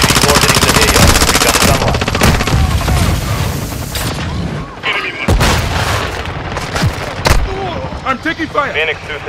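Dense, loud gunfire and booming blasts in Call of Duty: Modern Warfare II, with rapid automatic bursts early on that break into scattered shots and impacts later. Voices come through under the chaos.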